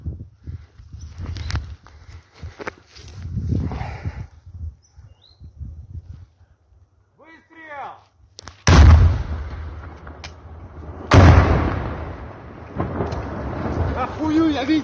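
Artillery in war footage fires in two heavy booming blasts that roll out and decay, following stretches of quieter rumbling and a voice speaking.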